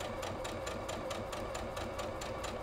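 A sewing machine stitches a sawtooth star quilt block seam, its steady rapid needle rhythm running continuously and close throughout.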